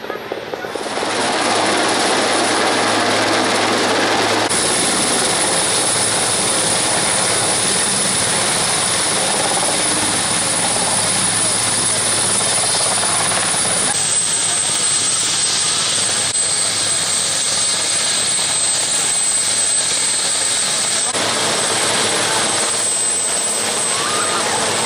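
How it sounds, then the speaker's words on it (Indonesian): Loud helicopter rotor and turbine noise roars continuously, with a high engine whine that shifts pitch as one of three helicopters comes down nearby into a crowd. "Tiga helikopter berpacu turun di kerumunan warga."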